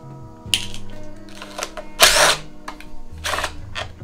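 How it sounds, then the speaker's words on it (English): An 8mm socket removes the engine shroud bolts from a Woods tractor: close ratcheting whirs and metallic clicks in short bursts, with one louder rasping spurt midway. "Next, we switch to an 8mm and we'll pull these shroud bolts out."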